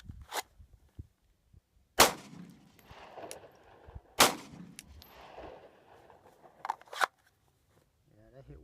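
Glock 19 Gen4 pistol fired during a dot torture drill, with several sharp gunshots spaced a couple of seconds apart, each followed by brief handling noise and quiet shuffling between shots.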